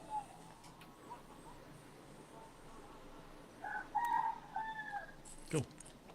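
A rooster crows in the morning, faint and distant, rising to a drawn-out call after several seconds of quiet room tone, with a brief louder knock near the end.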